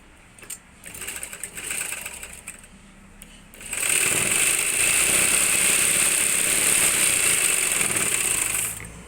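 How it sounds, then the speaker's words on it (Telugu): A sewing machine stitching a plain blouse: after a few seconds of light handling clatter, the motor starts into a loud, steady, rapid whirring run close by, holding constant before stopping near the end. "ఇప్పుడు కుట్టుకుందాం."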